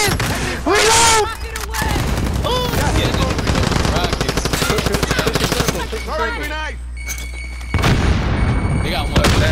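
Heavy automatic rifle fire and single shots crack during a close firefight in Warzone, long rattling bursts broken by short pauses, with players shouting and talking throughout.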